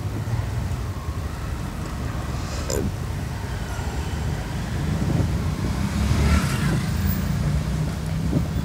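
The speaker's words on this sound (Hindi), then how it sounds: "आराम से राइट से बस को राइट से ओवरटेक करके चल रहा हूँ" A car moves along a city road during a driving lesson while overtaking a bus on the right, with a steady road and engine rumble and passing traffic noise throughout.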